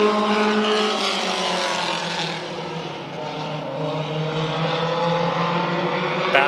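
A field of race cars at Orange Show Speedway roars together as the green flag drops, a dense, loud wall of engines climbing in pitch under acceleration and sustained throughout.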